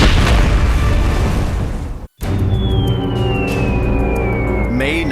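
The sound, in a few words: explosion of a dam-busting bomb test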